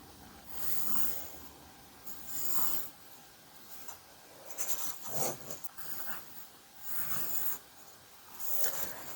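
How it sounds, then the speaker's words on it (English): Pencil drawing light guide lines on paper for a geometry folded fan swirl design, several separate scratchy strokes in bursts with short pauses between them, close and fairly quiet, with no talking. "please draw these lines nice and light"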